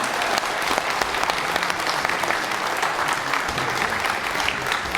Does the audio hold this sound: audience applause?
yes